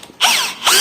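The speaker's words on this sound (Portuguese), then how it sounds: "E prendi na furadeira, tá? Então boto no sentido de desrosqueamento e começo" An electric drill set to reverse spins against a washer clamped in a small bench vise, loosening it off, in two whirring bursts of motor noise with a brief pause between them.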